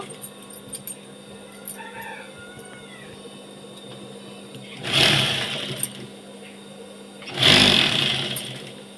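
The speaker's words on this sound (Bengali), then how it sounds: "একইভাবে আর একটা সাইড আমি সেলাই করে নেব" A sewing machine runs in two loud bursts while stitching the side seam of a nightie, separated by a quiet pause, with faint bird calls in the background.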